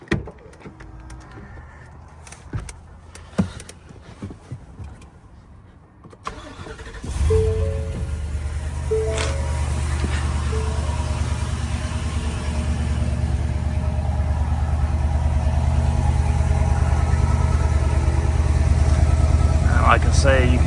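Ford Super Duty truck with a 7.3 gas V8 and long tube headers cranks over and fires up after a quiet stretch with a door and clicks, then settles into a steady, moderately loud idle.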